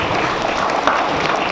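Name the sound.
applause for a student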